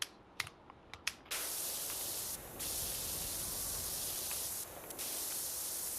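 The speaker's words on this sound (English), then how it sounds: "Let's spray that down." Pressure washer spraying in the PowerWash Simulator 2 video game: a steady, loud hissing jet that starts after a few short clicks, with two brief dips before resuming.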